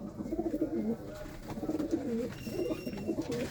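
Pigeons kept in a loft coo continuously in overlapping low, bubbling phrases, several birds close together, with steady background hum and no talking.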